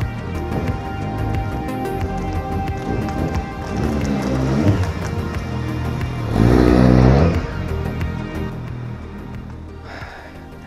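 Motorcycle riding in small circles and figures of eight, the engine droning steadily with uneven rises and a louder revving surge partway through, close to the microphone.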